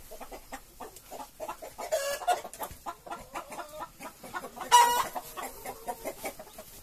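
Chickens clucking busily inside a coop where laying hens roost and nest, with several birds calling in short, overlapping bursts and a couple of louder squawks standing out, fairly close.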